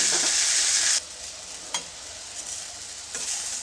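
Washed cluster beans drop into hot oil in a pan, starting with a loud, bright sizzle that falls to a quieter crackle, marked by a single clack of a utensil and a renewed hiss near the end.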